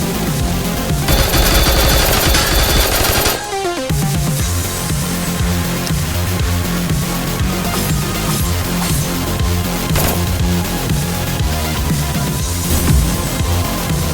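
Sustained automatic SMG fire in the boomer shooter Basilisk, dense and loud, with rapid bursts running almost continuously under heavy game music and effects.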